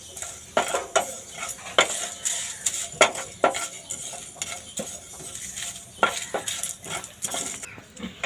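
Whole cumin, two dried chillies and a bay leaf are dry-roasted in a pan at home, with repeated sharp scrapes and clinks of a spoon stirring against metal over a faint sizzle.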